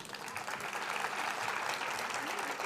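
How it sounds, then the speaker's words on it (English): Steady audience applause fills a hall at the Bharatheeyatha 2025 event as Dr. Jayaprakash Narayan is introduced, a continuous even clatter with some voices mixed in. "A round of applause."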